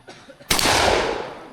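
A firearm fires a single round as one sharp, loud, close blast that rolls into a long, fading rumble after a moment of quiet shuffling.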